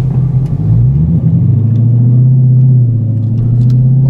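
Car driving along a lit street at night, a loud steady low engine rumble with a gentle rise in pitch as it pulls away, heard from inside the cabin.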